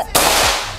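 Single sharp crack of a Brixton PCP air rifle shot fired close by, a sudden loud snap followed by a brief fading tail, with no talk.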